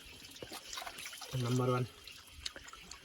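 Cold spring water flows from an outdoor source in the Gulmi hills of Nepal, a soft steady trickle and patter heard up close beneath a voice.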